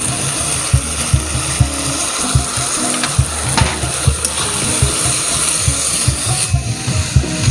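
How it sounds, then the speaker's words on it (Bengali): Sliced raw mango, green chilli, turmeric and salt fried and stirred in a pan for Bengali aam shol, a steady close sizzle broken by repeated scraping knocks of the spoon against the pan. "দেখো মা নেড়ে আরেকটু কষিয়ে নিচ্ছে।"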